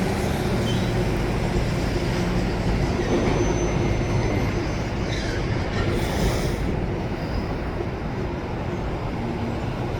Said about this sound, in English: BNSF had some kind of special unit train was going to go along up the Burnaby